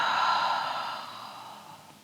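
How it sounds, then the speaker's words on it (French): A single long, slow exhale through the mouth during a short floor yoga session's breathing exercise, a soft breathy rush close by that gradually fades over about two seconds, with no talk. "inspire par le nez, expire par la bouche"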